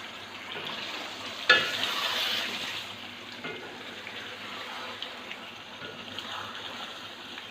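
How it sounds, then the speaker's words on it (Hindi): Fried onions are stirred into a pot of potato beef curry with yogurt, giving a soft steady sizzle and a sharp clack of the spoon near the start, faint and close. "प्याज को अच्छी तरह से मिक्स कर लीजिए"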